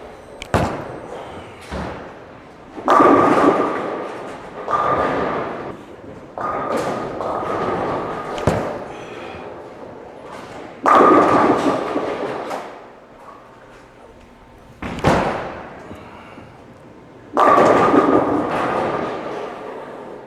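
Bowling balls thrown down a lane at a bowling alley, several rolls in a row, each a thud at release followed by a long rumbling roll and a clatter of pins, fairly close and loud with no talk.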